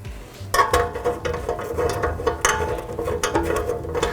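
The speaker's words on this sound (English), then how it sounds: "grabbing a couple of wrenches to make that tightening happen" Metal wrenches clank and ratchet while tightening the gas line connections on a FlameCraft Tondo gas fire pit burner, giving a run of close, irregular clicks and scrapes of metal on metal.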